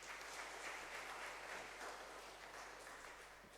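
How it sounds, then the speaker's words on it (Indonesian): Faint, steady applause for the elderly during a Sunday church service, a soft continuous patter of many hands heard from a distance, slowly tapering off. "Tepuk tangan untuk lansia."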